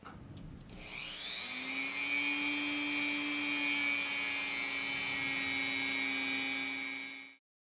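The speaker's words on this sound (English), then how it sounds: "I'm going to use a wire brush and a motor tool" A motor tool spins up and runs a wire brush against a model locomotive hand rail, a high steady whine with a rising start, constant for several seconds before cutting off.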